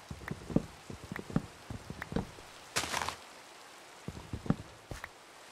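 Rain falling in the video game Minecraft, heard as a steady light patter with irregular tapping knocks and one short louder splashy burst, with no talking.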